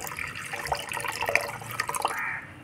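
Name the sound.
pouring a little water into a wok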